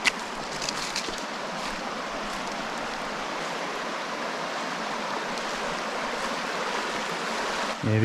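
Fast-running creek at Limestone Creek swollen after a severe weather event, a loud continuous rush of water close by, steady throughout with no voices.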